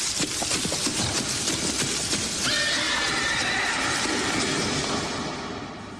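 A horse neighs in a long, loud whinny over a dense, noisy background, the call rising and trailing off as the surrounding clatter continues.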